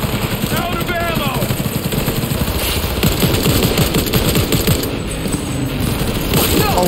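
Rapid automatic gunfire from a shooter game set in Cyberpunk 2077, steady bursts running nearly the whole time at close, loud level, mixed with game effects and a voice talking over it.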